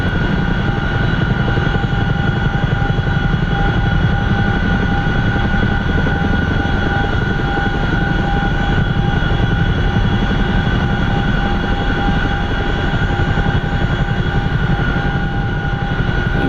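An MH-47 Chinook helicopter in the DCS flight simulator holds a steady, loud twin-rotor drone with a constant turbine whine, unbroken and close for the whole stretch.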